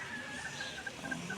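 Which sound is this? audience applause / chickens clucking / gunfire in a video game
chickens clucking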